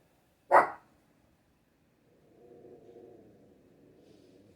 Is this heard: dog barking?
yes